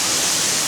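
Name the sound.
water splashing down from the ceiling in an indoor mini waterfall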